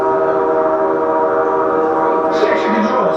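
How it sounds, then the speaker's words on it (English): An amusement ride train pulls into a station, a steady low rumble of rolling cars with a brief rise of brighter clatter near the end, close and continuous. "Oh, here comes the train."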